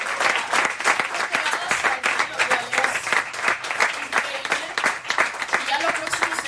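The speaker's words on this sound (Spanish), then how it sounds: "yo creo que eso se merece un aplauso" A church congregation breaks into sustained applause, many hands clapping densely and evenly for several seconds, filling the room at close to moderate distance.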